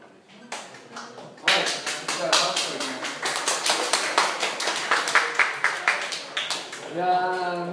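A university classroom breaks into applause after a short spoken lead-in, many hands clapping in a brisk, uneven rhythm for several seconds before a voice starts talking again.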